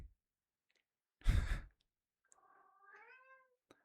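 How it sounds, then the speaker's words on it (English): A pet cat meowing near its feeding time: a short breathy sigh-like sound, then a faint drawn-out tonal meow and a small click, close by in a quiet room. "don't know if you can hear him meowing, but he's meowing."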